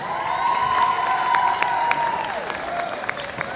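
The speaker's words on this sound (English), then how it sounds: "please clap, cheer, make a lovely loud noise for Stephen Bridges" A street crowd in Covent Garden, London, claps and cheers loudly for a magician's performance, a dense burst of applause with whoops and shouts that stays steady throughout.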